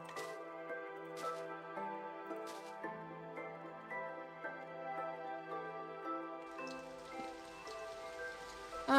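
Steady rain from the Minecraft video game pattering continuously at an even, moderate level, with a sharper burst right at the end.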